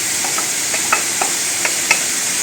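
About 250 grams of mushrooms frying in a pan with peppers and chorizo: a loud, constant sizzle with light stirring clicks and utensil taps spread through, no speech.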